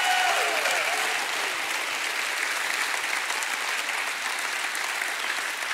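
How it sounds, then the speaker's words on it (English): A church congregation claps in praise, a dense steady wash of applause that fills the room and holds at an even level throughout. "Give God a great hand clap of praise."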